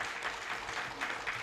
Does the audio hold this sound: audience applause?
yes